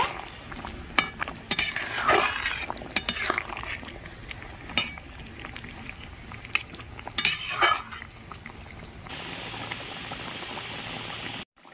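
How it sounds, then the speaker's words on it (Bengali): Fried rohu fish pieces go into a bubbling curry with potato and pointed gourd, giving a couple of loud splashy additions with utensil clinks, then a steady close simmering hiss. "ভেজে রাখা মাছগুলো আমি দিয়ে দিচ্ছি। মাছ দিয়ে ভালো করে ফুটিয়ে নেব।"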